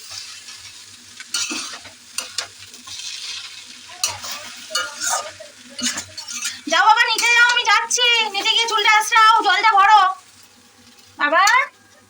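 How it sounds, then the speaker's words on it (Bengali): Chowmein stirred and fried in a small, cramped pan, with scraping stir strokes and sizzling, then a stretch of harmonic voices, apparently a child's, chattering over it before a brief burst at the end. "এতটা চাউমিন না নাড়তে খুবই কষ্ট হয় ছোটো জায়গা মানে নাড়তে গিয়ে না আমার সব চারিদিকে ছিটিয়ে যাচ্ছে"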